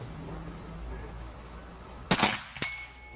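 A single sharp crack from a .30 caliber Umarex Gauntlet 2 PCP air rifle rings out near the end, followed moments later by a fainter metallic impact, over quiet outdoor background.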